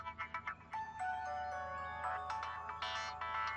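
A mobile phone ringtone plays for an incoming call, a bright synthesized melody of quick repeated notes, moderately loud and steady, with no talking over it.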